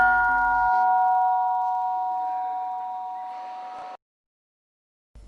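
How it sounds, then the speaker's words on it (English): A gong struck once for breakfast at a Mahasi Vipassana meditation center rings with a bright, sustained metallic tone that slowly decays for about three seconds before cutting out. "the gong hit for the breakfast"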